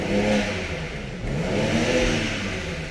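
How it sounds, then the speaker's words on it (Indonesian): A BMW X4 M Competition SUV (F98, 2020 update) revs hard with its sport exhaust opened, giving a loud, steady, close engine roar that holds for about three seconds with no speech over it. "Knalpotnya yang lebih gahar kita aktifkan dan kita coba gas."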